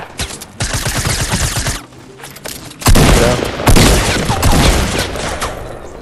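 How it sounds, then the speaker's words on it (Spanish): Bursts of rapid gunfire and fusillades from Fortnite Battle Royale gameplay, loud and close, with sharp volleys separated by brief lulls. "Solo escuché balazos."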